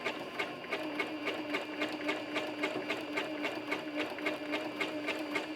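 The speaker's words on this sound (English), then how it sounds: "You're going to want one of your zigzags to go into the background fabric and one of the zigzags to go into the applique shape." A sewing machine runs steadily, zigzag-stitching an appliqué shape onto background fabric in a quilting project. The rapid needle clatter keeps an even rhythm, close and clear, with no talking.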